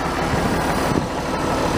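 Big farm tractor engine idling close by, a steady loud low rumble running throughout the short stretch with no talk.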